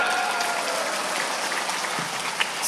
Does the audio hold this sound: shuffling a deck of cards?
no